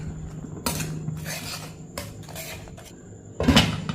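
Spicy chutney being mixed in a pan, heard as a few bursts of metal spoon scraping and clanking against the cookware, close by, separated by quiet gaps and ending with a louder clatter; no one speaks.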